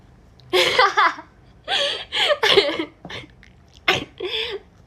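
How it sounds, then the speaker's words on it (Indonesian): Several short, harsh coughing bursts in quick clusters, close to the microphone, separated by brief pauses. "Aduh, batuk."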